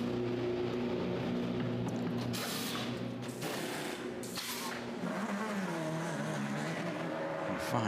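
A Le Mans prototype race car at the 2017 24 Hours of Le Mans runs down the pit lane, its engine a faint, steady tonal whine with shifting pitch and mechanical clatter, heard at a distance under a light background wash.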